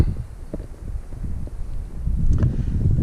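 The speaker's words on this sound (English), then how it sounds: "it's just too windy" Strong gusty wind buffets the microphone outdoors on a very windy day, a steady low rumbling roar with rustling bursts that grows slightly louder toward the end.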